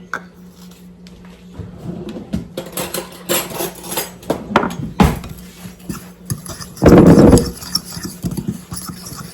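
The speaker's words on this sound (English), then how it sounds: "And we're going to just mix that up with a fork." A fork stirs white and brown sugar with cinnamon in a bowl for apple crisp, producing scraping clinks and taps over several seconds, close, with one louder sustained rattle near the end.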